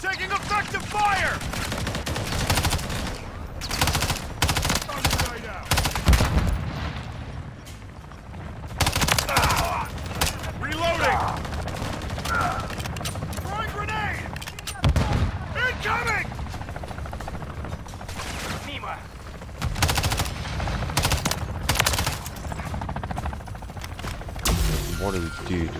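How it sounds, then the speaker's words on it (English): Heavy gunfire from mercenaries in Call of Duty Modern Warfare 3 open-world zombies mode, loud repeated automatic bursts and shots over a constant helicopter drone, with a player talking over the action. "Taking effective fire!"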